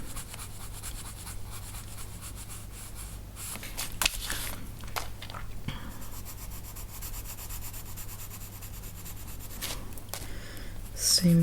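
A light brown coloured pencil shades the collar and shoulders of a figure in an adult colouring book, giving a soft, continuous scratchy rubbing that runs steadily and close, with a few louder strokes and page rustles.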